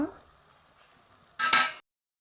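Fish oil frying in a pan gives a steady close sizzle that swells into a louder hissing burst before cutting off abruptly.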